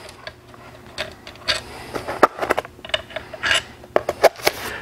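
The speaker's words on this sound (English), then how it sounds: "Next, you need to remove these 8mm bolts all the way around the cover." Loose 8mm bolts coming out of the stator cover on an Aprilia RSV4: a run of small metallic clicks, scrapes and light rattles from close by, in irregular bursts, with no talking.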